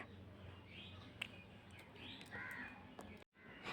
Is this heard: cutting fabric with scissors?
no